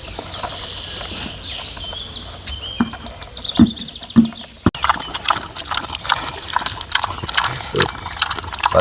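Farm pigs and livestock in a rural yard: grunts and squeals mixed with scuffling and knocking, busy and fairly close, amid clucking fowl and other barnyard noise, with no talk.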